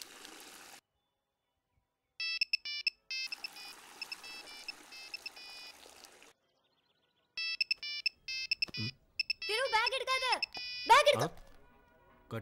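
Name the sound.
phone ringing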